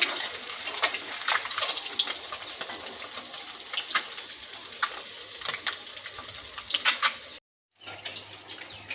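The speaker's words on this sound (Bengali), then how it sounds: "ডিমগুলো ভাজা হয়ে যাচ্ছে।" Eggs fry in a pan with a steady sizzling hiss broken by sharp crackles and pops, close and fairly loud, cutting out briefly near the end; no voices.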